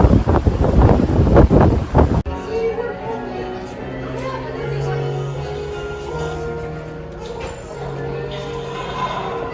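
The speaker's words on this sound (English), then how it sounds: "it's windy over here, so it's really windy over there" Steady wind buffets the microphone outdoors on Castaway Cay with a constant rushing roar, preceded by a brief loud burst of talking at the start.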